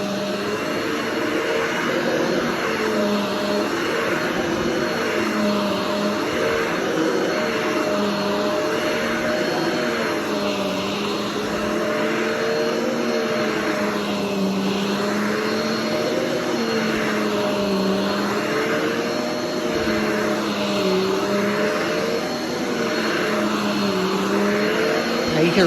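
A Riccar Radiance RAD.8 upright vacuum cleaner runs continuously on carpet, a loud, close motor drone whose pitch swells and dips in slow waves as it is pushed back and forth.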